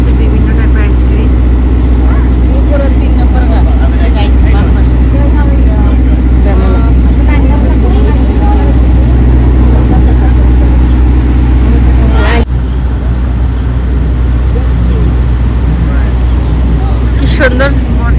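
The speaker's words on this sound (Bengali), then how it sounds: "সুন্দর বোট রাইড করতেছে।" A boat ride with a loud, steady engine drone and rushing water noise right up close, continuous for the whole stretch, with voices talking over the din.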